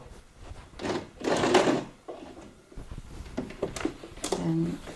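A sewing machine stitches the side seam of a handbag made from recycled denim jeans, running in several short, uneven bursts with pauses between them, close and moderately loud.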